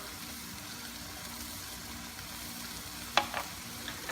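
Tomato frying with milkfish in a pan, a low, steady sizzle running throughout, then one sharp spatula scrape and a smaller knock near the end as it is stirred.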